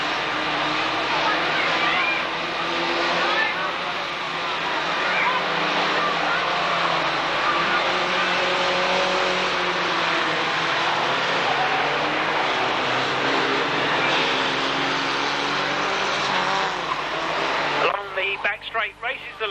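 Vans racing around a track at a 1991 Braintree Auto Club van meeting: a sustained roar of engines from a distance under continuous commentator talk, with a brief louder burst near the end.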